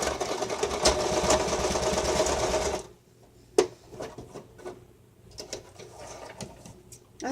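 A sewing machine runs a steady, loud burst of rapid stitching down the side of a piece of fabric for about three seconds, then stops, leaving soft handling clicks and faint room noise.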